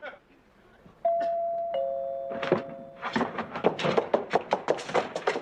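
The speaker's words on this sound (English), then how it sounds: "It's the doorbell, not the phone." A doorbell in a sitcom home sounds two sustained chime tones, one after the other, and people begin talking loudly right after.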